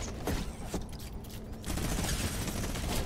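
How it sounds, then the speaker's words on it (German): A minigun fires in Fortnite, a dense continuous mechanical rattle that pauses briefly and then resumes louder, with no one talking. "Also mit der Minigun kann man auf jeden Fall so einiges anrichten"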